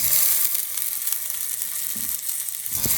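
Thin slices of carne asada sizzle in a little oil in a hot American-made cast iron skillet, a steady close crackle with brief scrapes and soft knocks.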